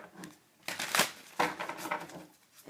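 Cards from a Nightmare Before Christmas tarot deck are shuffled by hand in two quick riffling bursts, crisp, papery and close, with quiet gaps before and between.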